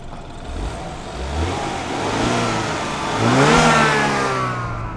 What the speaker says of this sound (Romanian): Poți să turezi așa un pic să aud cum se aude?